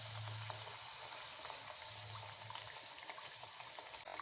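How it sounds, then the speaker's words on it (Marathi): Puri frying in very hot oil in a kadhai for matar puri, with oil splashed over it; a steady close sizzling hiss runs throughout, with a low hum underneath and one small pop. "असं पुरीवर तेल असं उडवत हळूहळू छान अशी आपल्याला तळून घ्यायची आहे"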